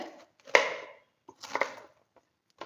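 A knife slices through firm vegetables on a board for bajji fritters, a few sharp crisp cuts separated by short quiet gaps.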